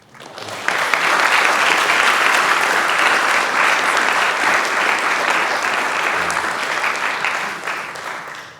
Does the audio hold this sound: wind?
no